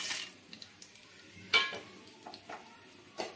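Whole peppercorns, cardamom pods, dry red chilli, bay leaf and cloves drop into hot oil for a Bengali doi katla curry, giving light crackling sizzle with scattered sharp pops and stirring clicks close by.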